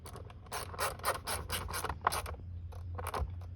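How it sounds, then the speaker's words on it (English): An engine cover being fitted back onto a 2005 Chevy 2500 pickup, heard as a quiet, close run of short plastic rattles and clicks coming in quick bursts with small pauses, no talking. "Now I'm gonna throw that cover back on"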